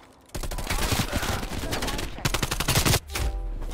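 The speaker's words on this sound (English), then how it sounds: "I just got straight up beamed by one of my favorite weapons, AK-47" AK-47 gunfire in Call of Duty Cold War, rapid loud automatic bursts starting abruptly after a brief quiet, firing steadily for several seconds with a short gap before another burst.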